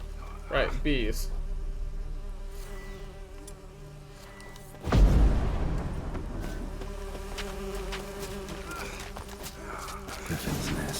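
Swarming bees buzz at a griffin's nest in The Witcher 3 video game, a continuous low drone that rises sharply in a loud whoosh midway and settles back, with a short voice near the start.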